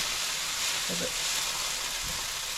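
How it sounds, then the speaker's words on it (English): An egg skillet sizzles in a pan with oil just after being flipped, a steady hissing fry with a couple of faint clinks partway through. "So I'm going to flip it"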